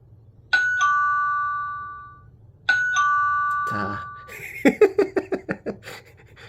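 An Aqara G4 smart video doorbell chimes twice in a bright two-tone ding-dong, each ring lingering and fading, followed by a short rustle and a rapid series of beeping electronic tones from the smart home system.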